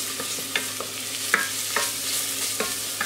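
Chopped shallots sweat over lowered heat in a pan as the start of a Bercy sauce, producing a soft continuous sizzle broken by several distinct scraping stirs of a utensil, close and without talk.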